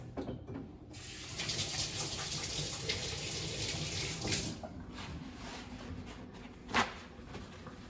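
Running tap water splashes steadily into a kitchen sink during hand washing after mixing donut dough, a continuous close wash with a brief louder splash near the end.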